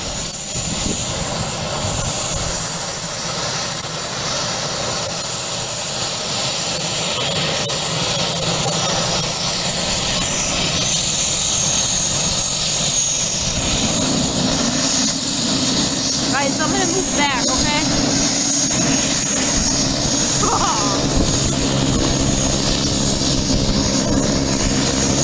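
A light airplane's engine starts up and settles into a steady drone at Aurora Municipal Airport, heard outdoors at fairly close range, with an occasional voice speaking over it.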